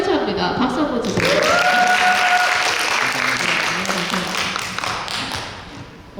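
Audience applauding at a Korean book concert and author talk, a dense steady wash of clapping that swells early and slowly fades, with a voice and a tonal whistle-like sound rising briefly over it.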